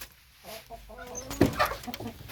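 Chickens clucking nearby in short, irregular bursts, with a brief louder squawk partway through over quiet outdoor background noise in autumn.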